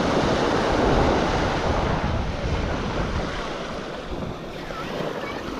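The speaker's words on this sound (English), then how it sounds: "a wave came and it moved it all" Ocean surf breaks on the beach at Manasota Key, a broad continuous wash of waves close by with wind rumbling against the microphone, slowly easing in loudness.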